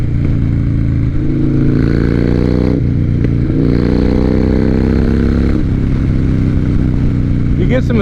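A Harley-Davidson Dyna motorcycle cruising on back roads, its loud, close engine droning steadily with audible downshifts and shifting pitch under the ride.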